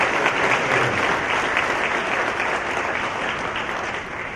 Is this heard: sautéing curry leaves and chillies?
no